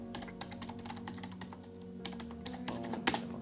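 Computer keyboard typing a password to log into an Open Media Vault server, a steady run of close, crisp keystrokes with one sharper tap near the end, alone without talk.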